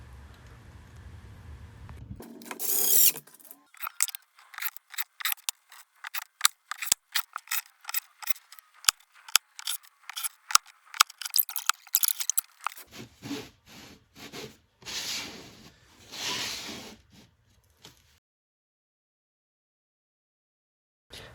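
H6 screws are driven into undrilled holes in a foosball table bracket, giving a series of sharp, irregular clicks and scraping turns close by, followed by faint handling noise and then silence.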